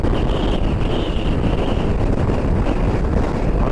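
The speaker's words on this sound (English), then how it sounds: "except for this bloody wind" Strong wind buffets the microphone on the Scottish north coast, a loud continuous roar with gusty rumble that stays steady throughout, with no talking.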